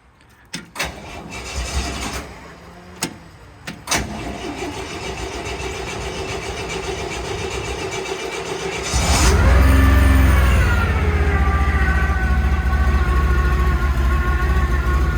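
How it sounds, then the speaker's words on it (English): A Hyster forklift engine cold starts after a few clicks and knocks, cranking briefly before catching with a loud burst, then settling into a steady, close, rumbling idle. "if you've had the gas off on any forklift, it takes a second for it to fire up"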